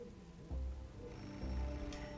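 A telephone rings in the Beholder video game, a repeated electronic ring at moderate volume over a steady low background hum, with no talking.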